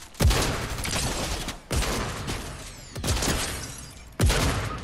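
Fortnite gunfire heard as four heavy, loud bursts of shooting spaced about a second and a half apart, each with a sharp attack and a long rolling decay.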